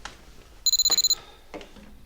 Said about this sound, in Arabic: شوفي التليفون.